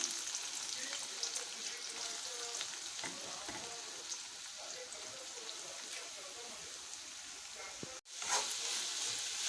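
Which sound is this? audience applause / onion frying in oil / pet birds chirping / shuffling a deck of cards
onion frying in oil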